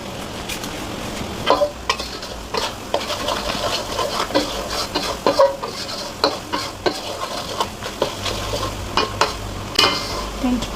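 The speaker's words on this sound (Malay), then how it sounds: "Dan kita biarkan sehingga rempah garing ya." Spices and chili powder crackle and sizzle in hot oil, with a spoon stirring and scraping the pan in irregular bursts, close up and steady, while cooking a seafood shellout.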